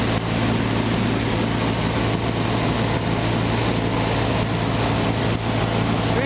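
Sonex experimental light aircraft with an AeroVee turbo engine in flight on a low approach, a steady loud broadband engine and wind roar with a constant low drone, no talk.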